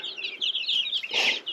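Young broiler meat chickens, Trinity birds about two weeks old, cluck and peep in quick soft bursts close by, with a brief louder squawk in the middle and no talking.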